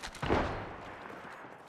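A single gunshot boom in a video-game battle with a sniper rifle fitted with an extended magazine, a sharp crack that fades into a rolling rumble.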